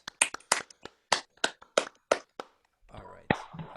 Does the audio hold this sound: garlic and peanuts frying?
no